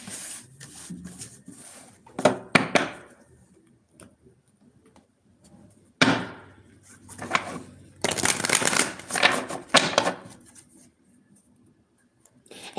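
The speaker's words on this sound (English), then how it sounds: "Let me pull some cards for you." Tarot cards are shuffled by hand in several bursts of riffling and slapping, close and crisp, with quiet pauses between them and no talk.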